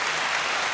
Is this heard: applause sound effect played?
yes